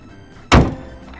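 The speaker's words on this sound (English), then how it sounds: "So now let's close the hood" Car hood closing with a single solid thunk, close and loud, ringing out briefly against a quiet background.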